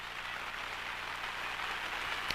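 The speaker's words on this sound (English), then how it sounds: "it is raining hard here in Proctor, Vermont" Hard rain pours steadily over a youth baseball game in Proctor, Vermont, a dense, even hiss of drops on surfaces with no voices, holding at a constant level throughout.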